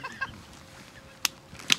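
Ducks over decoy stakes on a North Dakota hunt give a few short, sharp calls, two loud bursts standing out against an open-air background.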